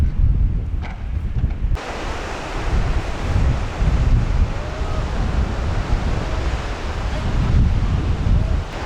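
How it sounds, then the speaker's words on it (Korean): Surf washing in steadily at Hamdeok Beach on Jeju on a winter day, with strong gusty wind buffeting the microphone throughout and a continuous loud roar of sea and air. "여기는 함덕 해수욕장입니다"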